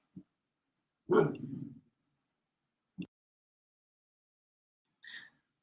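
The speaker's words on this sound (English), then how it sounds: "that's my dog" A dog barks a few times indoors, a loud bark burst near the start followed by short, quieter yips spaced across several seconds, with no talk over it.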